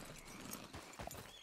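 Horse hooves clip-clop at a steady pace in the Red Dead Redemption 2 video game, a short run of close, moderately loud hoofbeats over a dusty rustling bed with a snort-like burst partway through.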